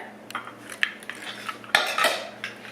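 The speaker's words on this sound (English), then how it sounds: "I'm going to mix it together." Banana bread batter with coconut and peanut butter is stirred by hand in a bowl. A utensil gives a series of close scraping and clinking strokes that grow louder and denser partway through.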